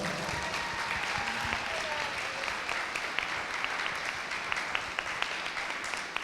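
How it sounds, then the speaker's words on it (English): An audience at a wedding professional panel claps at length, a dense wash of applause at moderate distance with some sharper individual claps standing out near the end. "Ladies and gentlemen, please give them a big round of applause."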